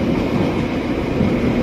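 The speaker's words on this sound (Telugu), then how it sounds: "ట్యూబ్ ట్రైన్ అంటారు దీన్ని." A London Underground tube train produces a loud, continuous low rumble and roar, steady throughout at close range.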